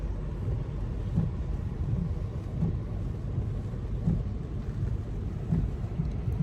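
A thunderstorm outside with wind and rain, heard as a steady low rumbling roar with faint rain hiss, fairly quiet and unbroken, no talking.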